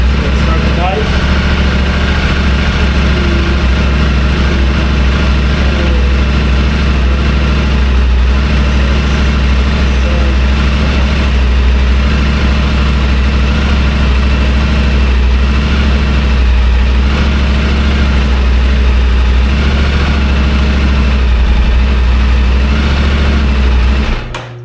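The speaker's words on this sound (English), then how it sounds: "Let's start the bike." A motorbike engine runs steadily at idle, a loud, continuous low rumble with a buzzy texture that holds evenly throughout and cuts off abruptly at the end.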